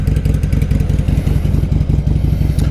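Motorcycle ride captured by a lapel mic mounted inside a helmet: loud, steady engine drone with rhythmic low pulsing and wind buffeting, close and continuous, no voices.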